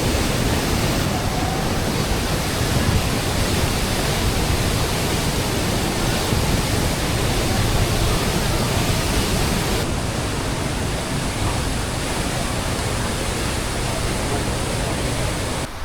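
Waterfall in Bali, a steady, loud broadband roar of falling water that stays constant and close throughout, without voices.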